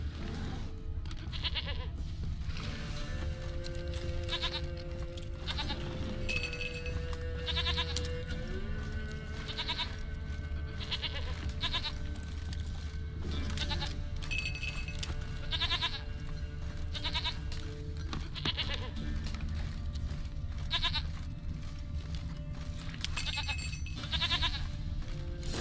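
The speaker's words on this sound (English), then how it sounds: "Here, goat. Here, princess." Goats bleating repeatedly in the fantasy game The Witcher 3: Wild Hunt, several distinct cries rising over a steady low ambient bed with occasional cowbell-like clinks.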